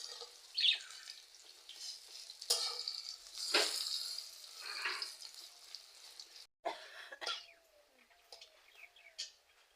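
Drumstick flower fritters fry in hot oil in a wok while being turned over, a quiet, steady sizzle with soft scrapes and birds chirping in the background.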